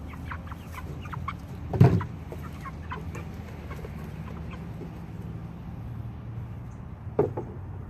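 Farm chickens cluck and chatter in a steady, close-by stream of short calls, with two louder squawks standing out against the ongoing flock noise.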